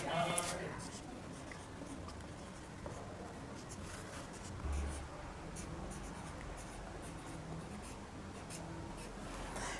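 A pen scratches steadily across paper, close and soft, while HTML basic structure is written out by hand, with a voice talking intermittently over the writing.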